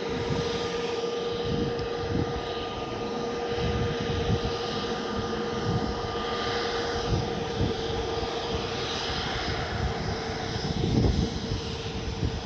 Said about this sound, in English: It's a Scandinavian Airlines Airbus A320neo. That's the 251 variant. She's on her way to Copenhagen this morning.